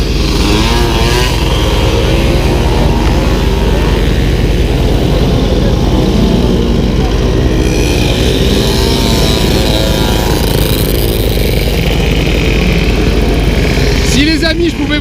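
A large crowd of Mobylette mopeds at a Treignat gathering drone together in a dense, loud, continuous two-stroke buzz that lasts throughout, with individual engines revving up close over the mass of engines.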